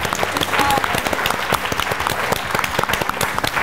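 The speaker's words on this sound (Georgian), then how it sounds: "აპლოდისმენტები 106-ს" Audience applause for School 106's team at a televised Georgian school book quiz: steady, dense clapping that fills the whole stretch at an even level, with no voices over it.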